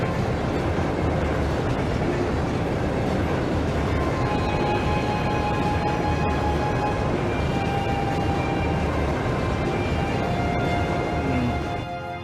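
A train rolls along rails in the video game Trails of Cold Steel II, a loud continuous rumble with rhythmic clatter and faint metallic whines, steady until it tapers at the very end.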